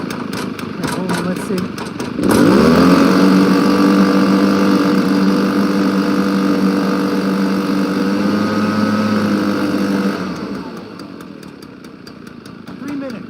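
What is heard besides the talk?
Honda lawn mower engine starting and running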